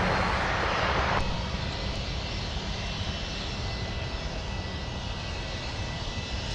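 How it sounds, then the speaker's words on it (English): Emirates Boeing 777-300ER taking off at Minneapolis–Saint Paul airport, a steady distant jet engine roar with a sharp hiss that cuts off early, no talking. "Got to watch the Emirates 777-300ER take off."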